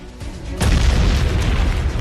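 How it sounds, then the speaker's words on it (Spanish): A sudden deep explosion erupts after a quiet moment, its loud rumbling boom swelling close and then lingering as a sustained roar until the end. "el terrorista más buscado del mundo despierta sobresaltado por una explosión"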